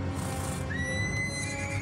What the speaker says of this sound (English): This horse is out of control.